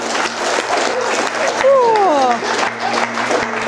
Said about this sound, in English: Can they have a round of applause for that